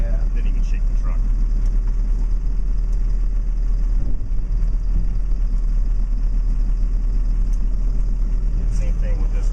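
A street department truck's engine rumbles loud and steady at close range throughout, with a heavy low drone and faint mechanical clatter on top.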